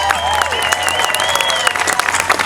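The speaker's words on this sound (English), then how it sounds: "Give yourselves a round of applause." A crowd at a clean-water rally applauds outdoors, its clapping dense and sustained, with voices calling and cheering over it.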